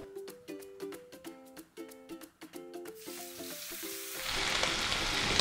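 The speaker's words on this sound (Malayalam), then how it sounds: "സ്റ്റേക്ക് ഗ്രില്ലിട്ടിടാം." Beef ribeye steak laid onto a hot grill drizzled with olive oil, a close hissing sizzle swelling into a loud, steady roar after the first few seconds, with tonal background music beforehand.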